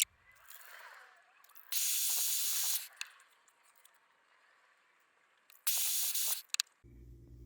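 A small torch gives two short, sharp hissing bursts while putting a quick burn on wooden stars for a small American flag, close and fairly loud, with quiet handling noises between them.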